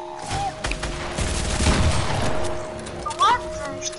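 Gunfire from the Counter-Strike video game, a dense fusillade of shots with booms and mechanical clatter through the middle, mixed under game voices and talk.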